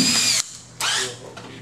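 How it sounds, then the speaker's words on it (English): An electric drill with a 1/16 inch bit whines in two short bursts, spinning up sharply, stopping, then revving again before winding down, close by with no talking. "so I've got a 1/16 inch drill bit"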